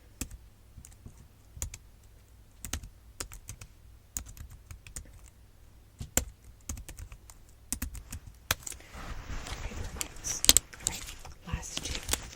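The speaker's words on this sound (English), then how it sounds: "now that number we're going to type in over here" Keys tapped on a computer keyboard while a number is entered at a clothing store counter, a quick run of light, close clicks spread across the clip, growing busier and denser toward the end.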